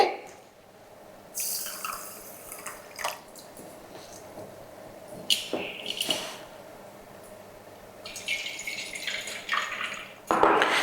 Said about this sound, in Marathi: आता सगळ्यात पहिल्यांदा आपल्याला हे तांदूळ चांगले स्वच्छ धुवून घ्यायचे